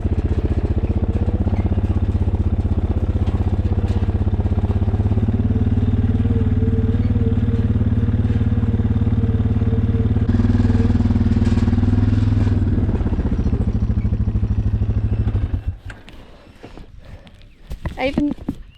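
A farm motorbike engine runs steadily and close for about fifteen seconds, a continuous low drone with slight shifts in pitch, while someone talks over it. The engine then cuts out, leaving softer scuffling and outdoor noise.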